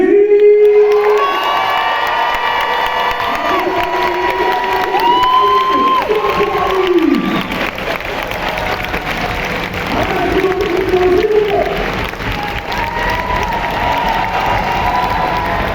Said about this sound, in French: Faites un maximum de bruit pour Faz et Eddie.